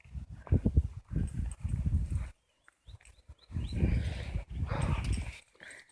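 A dog climbing a trail beside a waterfall, its panting and scrabbling steps coming close in several bursts, separated by a brief quiet gap.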